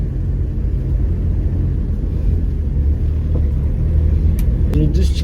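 Car engine driven in low gear, a steady loud low rumble held throughout while people talk inside the vehicle.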